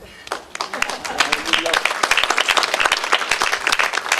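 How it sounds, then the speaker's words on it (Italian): Audience applause at a Lions Club talk on Sicilian grains, clapping building from a few scattered hands to a brisk, close, steady patter from a modest crowd. "grazie per l'applauso."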